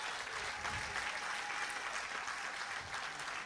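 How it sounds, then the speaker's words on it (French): Crowd applause at a municipal council inauguration in Basse-Terre, sustained and even clapping from a large gathered audience throughout, fairly loud and close, with no speech on top. "je vous demande de les applaudir très fort"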